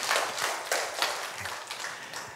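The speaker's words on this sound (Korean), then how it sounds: "하나님께 영광의 박수 올려드리겠습니다." Congregation in a church service clapping in praise, several sparse, uneven claps and taps rather than a full ovation, moderately close in a quiet room.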